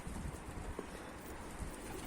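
A pet bird, apparently a pigeon or dove, gives soft, low coos close by, a few brief calls scattered through a steady background hum with no talking.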